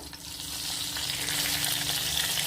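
Green chillies and curry leaves frying in hot oil in a pan, a dense continuous sizzle that swells slightly and holds steady for a couple of seconds, close and without speech.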